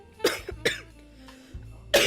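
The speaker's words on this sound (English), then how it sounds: "I'm still coughing" A person coughs in several sharp, close bursts with short pauses between them, dry and throaty, with the last cough loudest.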